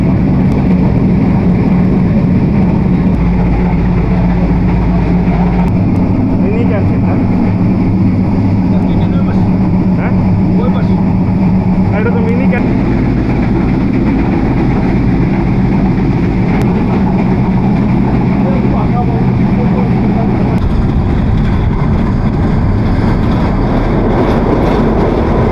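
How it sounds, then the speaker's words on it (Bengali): Dhumketu Express train on the Dhaka to Rajshahi route running through green fields, a steady low rumble and rattle of the carriages continuing throughout, with speech over it. "সুজলা সফলা শস্য শ্যামলা বাংলার সবুজ মাঠের বুক চিরে আমাদের ট্রেন চলেছে"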